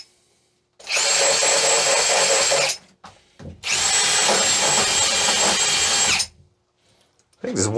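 A handheld power drill spinning a brush against corroded battery terminals while restoring an abandoned off-grid air setup: two long loud whirring bursts separated by a short pause, with a brief start of another at the end.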